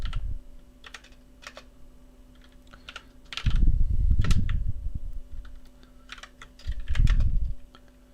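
Code for a simple HTML website is typed on a computer keyboard in brisk, irregular bursts of close clicking keys, with louder thumping patches of heavier keystrokes and a faint steady hum underneath.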